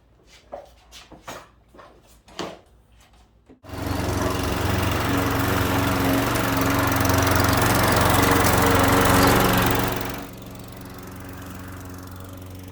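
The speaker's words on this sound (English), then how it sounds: "The mower should operate smooth and produce an even cut that slices the grass, not tears it." After a few seconds of light knocks and shuffling, a lawn mower with a freshly sharpened blade starts cutting grass, running loud and steady, then its roar drops to a quieter idle near the end.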